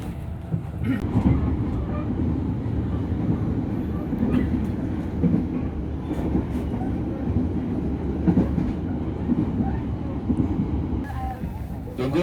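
The Progo passenger train in Indonesia running along the rails with a steady rumble and faint rhythmic clatter, heard from inside a carriage, with people talking quietly under the noise.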